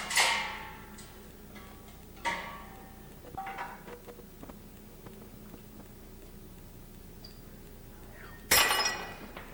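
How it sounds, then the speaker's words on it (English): Broken laboratory glassware handled in a lab, scattered clinks and tinkling glass pieces with a sharper clatter near the end, spaced apart over low room hiss. "You put the broken glassware in the glass container, not in the sink, okay?"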